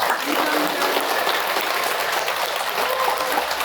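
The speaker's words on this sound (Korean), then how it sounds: "감사의 박수를 봉헌합시다" A gathering at a Catholic retreat led by a priest claps steadily in thanks, a dense, even wash of applause with no break.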